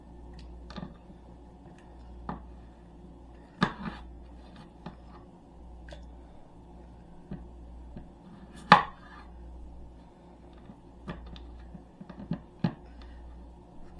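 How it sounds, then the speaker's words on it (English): A knife cuts food into wedges on a cutting board, giving faint, irregular taps and ticks over a low background hum, with a few sharper knocks spaced a second or two apart. "cut them in half, cut on the side, and cut that in half, then cut this in half, wedges"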